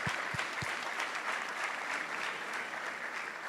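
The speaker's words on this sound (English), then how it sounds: "I think, boys, you really deserve a big round of applause." An audience claps for a group of boys in a mentoring program, a steady, even round of applause that runs throughout the clip, with a few separate claps standing out at the start.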